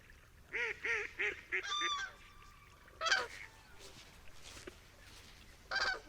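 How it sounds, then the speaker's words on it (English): An adult crane's loud, honking calls ring out in a quick rhythmic series over a marsh, followed by a few scattered cries against a quiet outdoor background. "interrupted sometimes only by an occasional cry of an adult crane"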